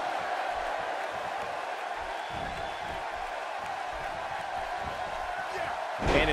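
Wrestling arena crowd in a WWE video game during a handicap match, a constant roar and murmur of spectators beneath commentary, with a sharp slam-like impact and crowd surge near the end.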